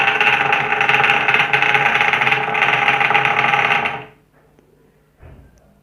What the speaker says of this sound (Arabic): والآن سوف نقوم بتشغيل المحرك